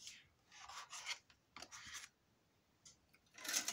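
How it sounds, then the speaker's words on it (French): Scissors snip away excess paper on an autumn-themed craft album, in several short rasping cuts separated by brief pauses, close and fairly quiet. "On va couper le surplus."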